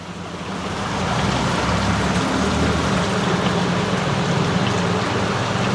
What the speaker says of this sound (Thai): เห็นว่าน้ำตกนะ